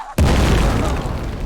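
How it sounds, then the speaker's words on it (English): A grunt's kamikaze blast in the Arma 3 OPTRE expansion: a single sudden loud boom with a deep, rumbling burst that decays over about a second, heard alone. "You can press X again while playing as a separate grunt to explode, or wait 5 seconds until this thing will explode by itself."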